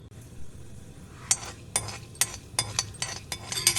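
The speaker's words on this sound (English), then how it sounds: "Now add half a teaspoon of urud dal and fry in low flame." Urad dal and mustard seeds frying in oil in a kadai, a soft steady sizzle broken by a series of quick metallic clinks and scrapes from stirring, close and moderately loud.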